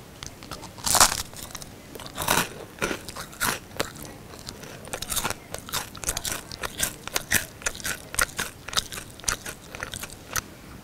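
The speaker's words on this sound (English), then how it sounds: "eating biscuits" Biscuits are eaten close to the microphone in ASMR style, a steady run of crisp crunching bites and chewing with small crackles, sharp and intimate, without talk.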